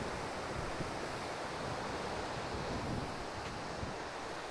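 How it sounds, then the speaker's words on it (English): Surf and wind at Cavendish Beach on the campground side, a steady broadband roar of breaking waves mixed with gusty wind buffeting the microphone, continuous throughout with no voices. "You see there's a bit of surf, but so far not too much."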